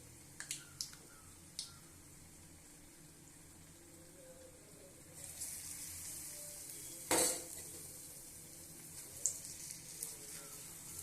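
Ajwain (karpooravalli) leaf bajji dipped in batter and frying in hot oil, giving a soft, steady sizzle with a sharp clatter of a utensil against the pan near the middle and a few lighter taps.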